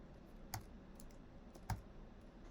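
Two sharp, quiet keystrokes on a computer keyboard, spaced about a second apart, with faint softer taps between them in a quiet room.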